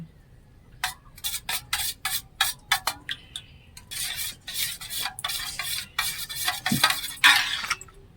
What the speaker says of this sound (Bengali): চামচ নুন দিয়ে ডিমটা গুলে নেব